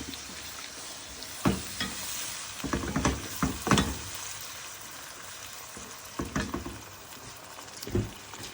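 Tomatoes frying with garlic, ginger and spices in a pan for eggplant curry, a steady sizzle broken by repeated scraping stirs that come in short bursts, close and fairly loud.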